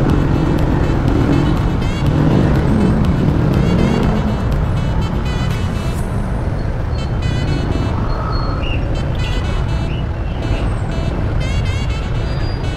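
Busy road traffic at rush hour in a Philippine town, a dense wash of car and truck engines with horn toots scattered throughout, loud and continuous.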